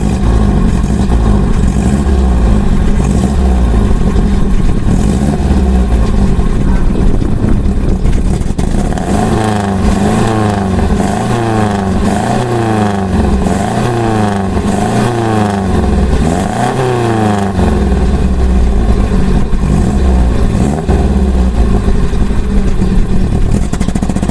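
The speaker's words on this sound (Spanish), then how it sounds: "Vamos a ver cómo suena este motor en concreto" Citroën GS/GSA car engine running steadily and loud, close by, with a rhythmic flat-four pulse that shifts as it revs up and settles back, no voices.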